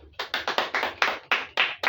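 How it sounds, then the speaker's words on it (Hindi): A handful of close, crisp claps from a seminar audience applauding a doctor, loosely rhythmic and clearly separated, with nothing else beneath them. "डॉक्टर साहब के लिए तालियां"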